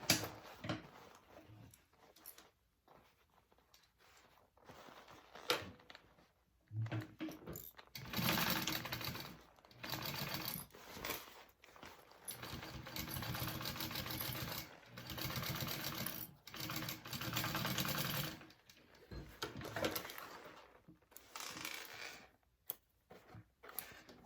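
A sewing machine stitches a divider bag in several bursts of rapid, even whirring, separated by short pauses and handling clicks, heard up close at moderate loudness.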